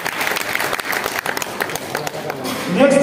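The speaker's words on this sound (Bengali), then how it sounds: "একবার জোরে হাততালি মারুন" A seminar audience bursts into a round of loud, dense applause with many hands clapping together for a few seconds, and voices mixed in.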